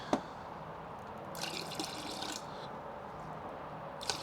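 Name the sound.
pouring rinseless wash liquid out of a pump sprayer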